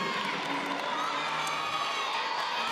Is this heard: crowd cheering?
yes